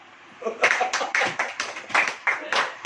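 A church congregation claps hands in a loose, uneven rhythm of about a dozen sharp claps, moderately close, with voices mixed in among the beats.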